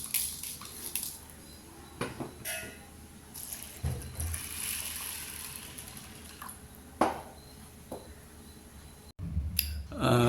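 Water splashes and runs into a bowl of chana dal and toor dal set to soak in a home kitchen. Soft pouring is broken by a few clinks of utensils, close and fairly quiet.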